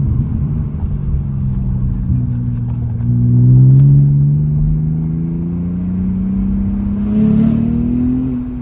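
A car engine revs while driving, its pitch rising and falling through several gear changes with a loud, close rumble and a brief surge near the end, with no talking.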